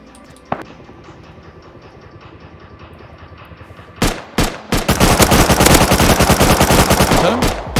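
Gunfire in the survival video game Rust: a lone shot, then a few short bursts, then a long, loud, rapid string of automatic fire with no pause.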